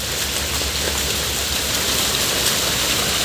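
Heavy rain pours down steadily outdoors, a dense, loud, unbroken hiss of drops drumming on surfaces with no voices.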